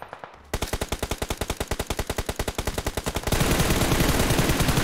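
Fully automatic rifle fire in PUBG, a long, rapid, evenly spaced burst of close shots lasting about three seconds, then a louder wash of broad noise.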